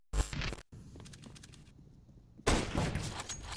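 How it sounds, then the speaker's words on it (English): Sniper rifle shot from the Scout in the CS:GO video game, a sharp loud crack at the start, followed by quieter in-game activity and another burst of loud noise near the end. "Scout shot from Mo"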